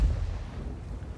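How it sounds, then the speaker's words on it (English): A tank cannon shot from an Object 260 in World of Tanks is heard as a heavy, booming low rumble. It hits hard at first and then rolls on as a short, dull tail. "Another shot and tracked him."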